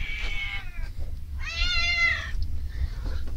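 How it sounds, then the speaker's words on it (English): Cats meowing at night, waking someone at 1 a.m.: three drawn-out, loud nearby meows in a row, the middle one longest, over a low background rumble. "You went off all night meowing at me."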